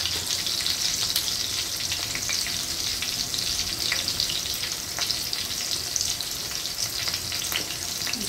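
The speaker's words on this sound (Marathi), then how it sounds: "आता मिरची पण परतून झाली, थोडं हळद टाकते मिरची." Green chillies sauté in a pan for a festival food offering, with a steady close sizzle and scattered crackles and scrapes of stirring throughout.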